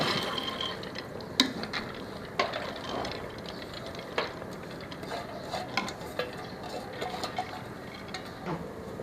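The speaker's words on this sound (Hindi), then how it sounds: "अब ये मैं सिर्फ 2 गिलास पानी डाल रही हूँ बस।" Water poured into a cooking pot holding soaked chana dal while making shami kabab, a quiet steady splash with clinks and knocks of utensils scattered throughout.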